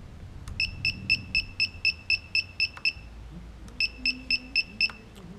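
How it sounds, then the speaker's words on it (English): A quadcopter's lost-model buzzer sounds two quick runs of sharp, evenly spaced beeps, close and fairly loud over a faint background hum. "I'm also able to turn on the buzzer, the lost buzzer"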